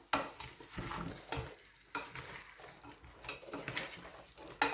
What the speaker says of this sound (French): Je mélange tous ces ingrédients